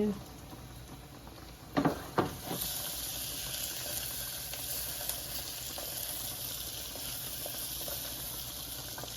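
Shark curry bubbling in a pot, a steady close simmering hiss with a couple of brief knocks early on.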